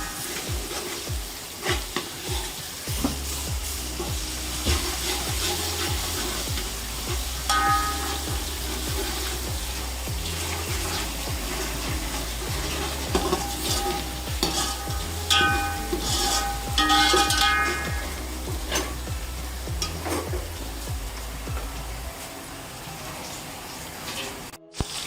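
Garlic added to lightly browned onions fries and is stirred in a pot while cooking chicken pulao, a steady sizzle with scraping spoon strokes throughout, close and continuous.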